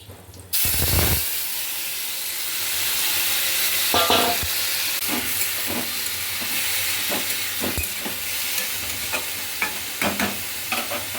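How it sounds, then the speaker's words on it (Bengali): Taro leaves hit a hot pan of oil tempered with cumin, bay leaf and dried chilli, a steady loud sizzle rising at once and running throughout, broken by scraping stirs and clinks of a spoon. "দিয়ে দিচ্ছি ফোড়ন, জিরা, তেজপাতা, শুকনো লঙ্কা। এবার দিয়ে দেবো কচু শাকটা।"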